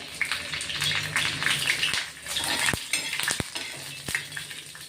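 Curry leaves tossed into hot oil in a pan with cumin and garlic: a busy, crackling sizzle with spoon stirring and sharp metal clinks against the pan, close up and fairly loud throughout.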